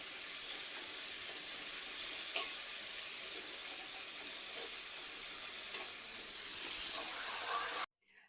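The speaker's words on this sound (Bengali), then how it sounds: "তো তুমি এটা সেই মশলাগুলো শুকনো খোলায় ভাজা," Spices dry-roasting in a hot pan for a sweet-shop style chana dal, a steady hiss broken by occasional scraping stirs, ending abruptly into near silence.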